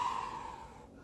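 A single long breath out after a postnatal workout, a steady airy exhale that slowly fades over about a second, close and fairly soft.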